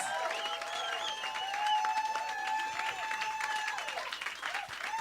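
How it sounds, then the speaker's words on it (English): Audience applause at an architecture and design talk, a sustained round of clapping with some voices and cheers mixed in, fairly steady in volume throughout. "Thank you for clapping, everyone."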